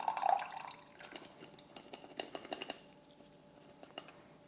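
Pineapple juice dripping and trickling through a strainer lid while making taffy apple salad, quiet irregular drips and small splashes with no talk.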